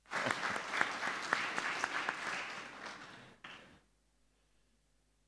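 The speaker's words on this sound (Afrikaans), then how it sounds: "Ek dink ons moet die vasbyt ouers 'n lekker hande klap gee." Warm applause from a church congregation for the parents at a confirmation service, sustained clapping that thins out and stops, leaving near silence.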